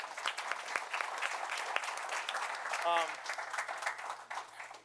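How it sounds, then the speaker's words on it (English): Steady applause from a crowd at a town board meeting fills the whole stretch, with a brief voice cutting through partway. "Give her a round of applause."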